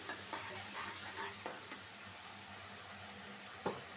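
Spice paste for a thin hilsa and bottle gourd curry sautéing in a pan, a steady soft sizzle with occasional stirring scrapes, moderately quiet and without talk.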